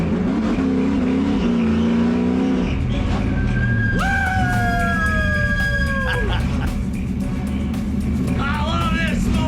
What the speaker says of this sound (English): And here he is driving the pit stop car.